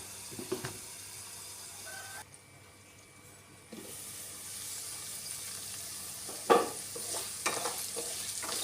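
Ivy gourd fries in oil in a pan, giving a soft, steady hiss. Scraping stirs come near the start, then a muffled lull, then sharper clattering stirs after the middle, with no voices.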